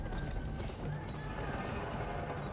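A horse gallops with steady, rapid hoofbeats in the Western video game GUN, a continuous dense clatter at moderate volume.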